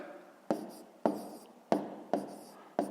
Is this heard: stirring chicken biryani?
no